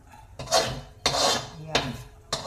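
Fried ground pork scooped from a pan onto a saucer: several scraping, clattering strokes of utensil against cookware, each a short burst with brief pauses between, close and fairly loud.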